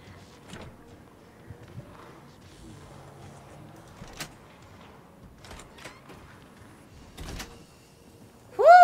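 A door shuts in the Alan Wake 2 game, heard as a few soft thuds and clicks over a quiet, dark ambience, followed near the end by a louder burst.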